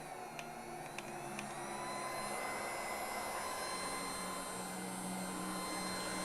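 Heat gun fan blowing air like a blow dryer, a steady even whoosh with a faint hum, continuous and moderately quiet, preceded by a few small clicks.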